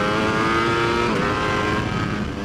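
A 2019 Ducati V4S superbike engine howls hard under acceleration on a race track, a loud, close, sustained high-revving roar with no talk.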